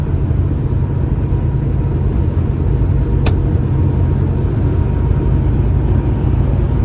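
A semi truck shifts up into top gear on frozen winter roads, its loud, continuous engine and road drone filling the cab with a heavy rumble and one faint high tick midway.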